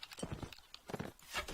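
Horse hooves clip-clopping in the Mount and Blade Warband video game, with a quick run of fairly faint, uneven hoof strikes over a short stretch, mixed with a low background game hum.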